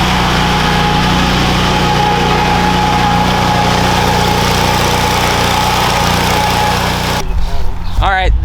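A Kubota U17 mini excavator engine runs steadily nearby, a loud, continuous mechanical hum and rumble that carries on until a voice starts talking over it near the end.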